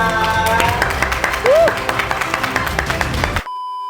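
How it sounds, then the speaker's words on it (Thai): Applause and cheering from a crowd fill the room for a few seconds under music with a sliding tone, then cut off abruptly. "ขอเสียงปรบมือ"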